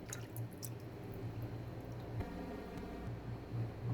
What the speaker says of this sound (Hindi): चिकन को हमने पानी से निकाल लिया है, सिरके और नमक वाले पानी से।